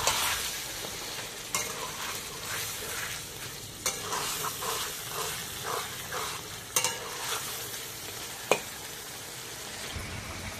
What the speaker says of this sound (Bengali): চিকেনটা একটু কষে নেব।